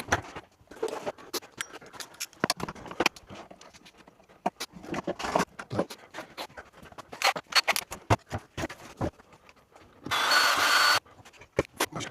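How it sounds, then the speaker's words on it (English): Metal file strokes work down the case of a cheap eBay pannier lock in irregular, close scraping rasps and taps, with a sharper continuous grinding burst near the end; no talking. "We can file this out a bit more, grind that down."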